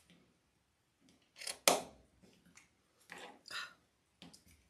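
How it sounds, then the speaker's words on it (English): Crisp snips of scissors cutting fabric for a sewn Easter wreath attachment, heard as a few short, close, separate cuts with quiet pauses between them. "What is with these scissors?"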